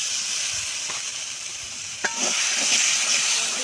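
Spiced masala frying in oil in a pan for a cauliflower yogurt korma, a steady close hiss and sizzle with a brief clink near the middle before the frying swells slightly louder.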